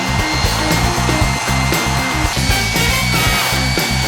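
A small electric sander runs continuously and loudly up close, a steady buzzing whine with a slightly pulsing rhythm, heard alone while working on a narrowboat project.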